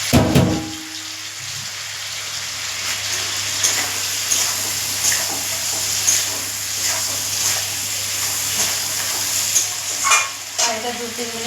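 Green chillies sautéing in hot oil for a Bengali fish curry, a steady close sizzle running throughout with occasional scraping stirs of a spatula against the pan, no talk.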